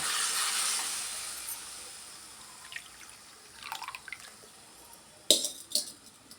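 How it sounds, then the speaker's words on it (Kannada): Hot water poured from a container into a bowl of vermicelli gives a steady hiss and trickle, then fades into scattered drips and a few sharper splashes and clinks near the end. "ಈಗ ಇದೇ ಬೌಲಲ್ಲಿ 3 ಬೌಲ್ ಆಗೋಷ್ಟು ಬಿಸಿನೀರು ಸೇರಿಸ್ತಾ ಇದ್ದೀನಿ"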